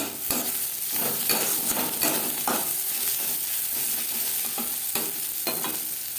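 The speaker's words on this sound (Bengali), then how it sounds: "পেঁয়াজ ভাজা হয়ে এসছে।" Chopped onions sizzle steadily in a pan while a spatula stirs and scrapes them in a loose repeating rhythm with occasional light clinks, close up and with no voices.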